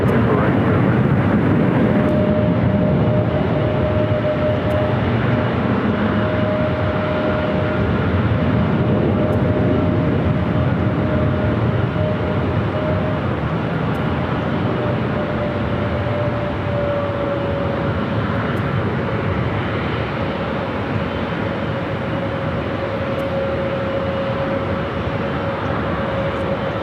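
An Airbus A321neo airliner at Los Angeles International Airport gives a continuous, loud, broad jet roar with a faint steady whine, holding level throughout.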